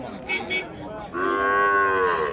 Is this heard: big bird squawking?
no